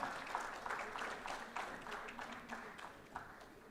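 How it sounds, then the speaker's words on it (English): A panel at the Goodwill Awards is welcomed with a round of applause from the audience, clapping steady and moderately loud, filling the whole moment without any talk over it. "Give them a huge round of applause, everyone."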